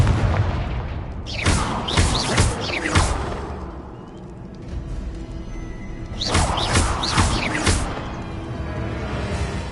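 Confringo fire spell blasts in Hogwarts Legacy, two loud booming bursts with whooshing tails separated by a few seconds of rumbling quieter sound.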